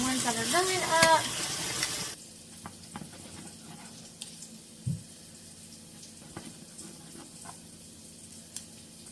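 Chicken frying in a pan, with a soft continuous sizzle under faint kitchen clatter and a few light knocks, following a brief burst of louder sound at the start.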